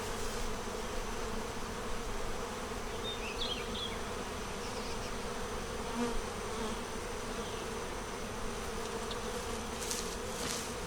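Honey bees buzz steadily at a hive where they are festooning on foundation, a dense, continuous drone close by with individual bees whirring past now and then.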